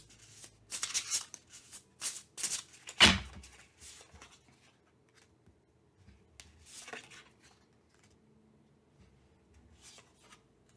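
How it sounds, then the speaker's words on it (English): Lucine tarot deck cards being shuffled close by, a few quick papery riffles and taps in the first seconds before the sound fades to faint handling and near quiet, no talking. "while I shuffle for a little bit longer"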